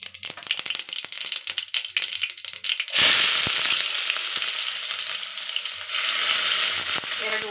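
Mustard seeds hit hot oil in a pan, starting with scattered crackles and pops before breaking into a loud, dense sizzle that carries on to the end, with no talking.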